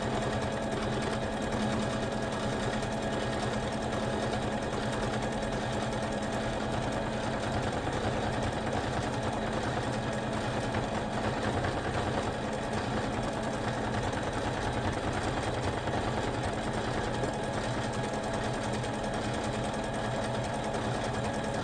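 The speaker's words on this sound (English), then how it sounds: "So we'll go ahead and let this sew all the way around" Embroidery machine running a continuous double stitch on an in-the-hoop box bag, a steady, dense mechanical whir and rapid needle chatter that holds unchanged for over twenty seconds, close and alone.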